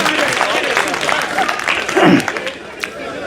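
Audience applause at a Hindi poetry recital: a steady patter of clapping from a crowd, fairly loud and continuous, with voices mixed in.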